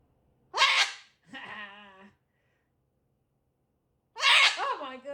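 Pet bird imitating human sneezes: a sharp sneeze-like burst, a short tonal squawk after it, then a second sneeze after a pause, close and fairly loud.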